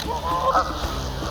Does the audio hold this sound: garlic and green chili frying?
no